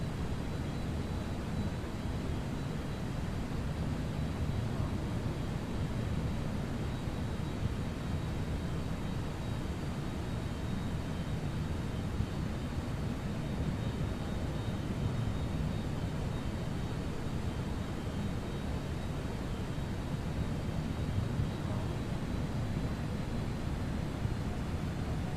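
Airbus A321neo jet in X-Plane 12 taking off from Heathrow runway 36 right, a steady broad engine roar holding at an even level throughout, with no speech.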